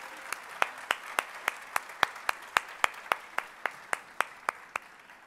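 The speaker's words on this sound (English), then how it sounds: "I'd like now to take a moment for the class of 23 to actually applaud our beautiful families who have supported us in this journey" Slow, evenly spaced claps ring out one at a time at a school's Year 12 graduation ceremony, a sparse rhythmic clapping with clear gaps between each strike, fairly close and alone without talk.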